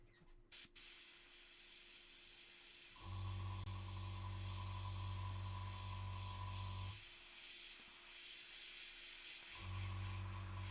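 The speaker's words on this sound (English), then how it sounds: "when you're like working with an airbrush for highlights" An airbrush sprays paint onto a miniature in two long, steady hissing bursts with a short pause between them, close and alone, with no talking.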